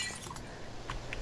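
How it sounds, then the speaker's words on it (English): A glass block shattering in the Minecraft video game, heard as a brief, bright clink and tinkle of breaking glass, fairly close and clear with no talking over it. "If you spawn on top of the building, break through the glass."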